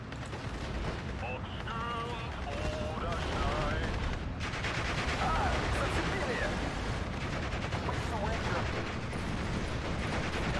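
Tetrarch light tanks fire in the World War II strategy game Steel Division: Normandy 44, heard as a soft, continuous crackle of distant gunfire and battle rumble under faint tonal background sound.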